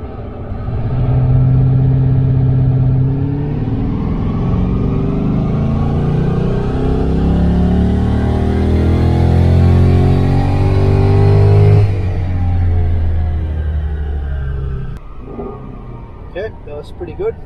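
A Holden Commodore VF with an LS3 V8 without its intake revs hard on a dyno, a loud deep roar climbing steadily in pitch, then dropping away as the engine falls back, with a brief voice near the end.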